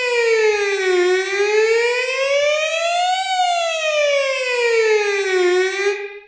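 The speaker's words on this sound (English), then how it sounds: "And it really makes it sound like a police siren." Synthesized police siren effect processed through a small combo spring reverb in Logic, a loud continuous tone sliding slowly up and down in long sweeps, heard alone without any voices.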